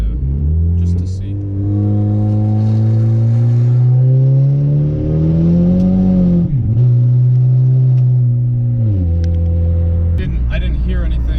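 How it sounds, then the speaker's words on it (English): A boosted R18 engine car makes a second gear pull, a loud, steady droning engine note rising in pitch, dipping briefly at a shift or lift and then holding, heard close from inside the car. "We're gonna do just a second gear pull real quick, just to see."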